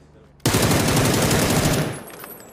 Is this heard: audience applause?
no